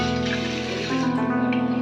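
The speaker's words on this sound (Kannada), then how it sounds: "ಸ್ವಲ್ಪ ನೀರು ಹಾಕ್ಬಿಟ್ಟು" Water poured into a cooking pot holding field beans (avarekalu) and dal: a steady running, splashing pour, close and fairly loud, its pitch climbing slightly as the pot fills.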